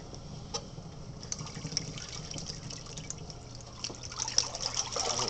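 Water trickles and splashes as a washing machine fills for a rinse cycle, a moderate, irregular pouring and dripping that grows fuller toward the end, heard close with no talking.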